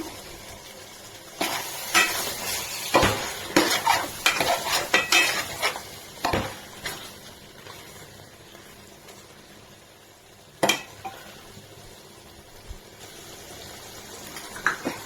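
Chicken cooks in masala in a pot for chicken biryani, with repeated close scraping stirs, clinks of a utensil against metal and a soft background sizzle.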